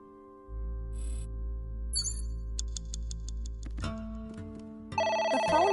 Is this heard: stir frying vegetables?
no